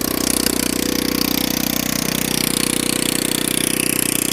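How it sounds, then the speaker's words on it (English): Honda Ruckus scooter with a fabricated rear frame idling up close, a steady loud low-pitched putter with a constant rattly pulse running unbroken throughout. "that's the idle"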